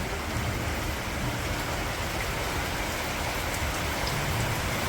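Heavy, sudden rain pours around a house, a dense, unbroken hiss of drops striking surfaces at a steady loudness from start to finish, with no voices.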